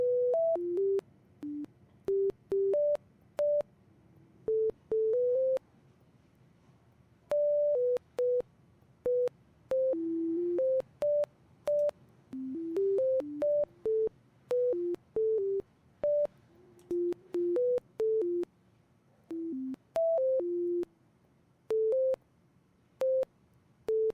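A modular synthesizer running a generative patch plays sparse, clean electronic tones in an irregular melodic pattern, each note short and separated by brief silences, fairly quiet with no voices.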